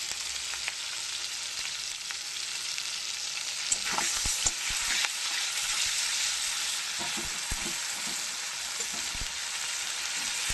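Tomatoes sprinkled with salt fry in a pan, giving a steady bright sizzle throughout with a few sharp stirring scrapes and taps in the middle and toward the end.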